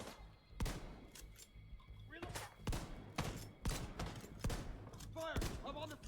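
Shotgun fire in the video game The Division 2, a string of loud, punchy blasts at irregular intervals with mechanical clatter between them, and someone talking over the shooting.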